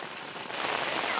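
Heavy rain pours onto a paddy field as rice seedlings are being planted. The hiss is steady and close, builds slightly toward the end, and no one speaks.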